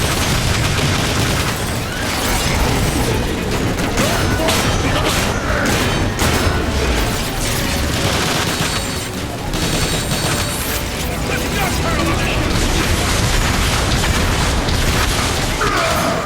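Rocket explosions and rapid gunfire from the Transformers: War for Cybertron video game pound continuously, with heavy booms layered over dense weapon bursts and occasional character voices beneath the loud battle.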